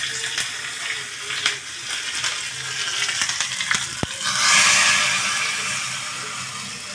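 Curry leaves and green chillies crackle and sizzle in hot oil for dal vada, with scattered sharp pops and a louder burst of frying about midway that settles into a steady hiss.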